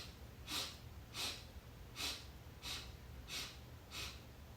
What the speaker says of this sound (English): We're going to inhale with complete sniffs 8 times.